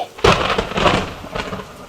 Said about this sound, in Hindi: ऐसी ही बरसाती तूफानी रात थी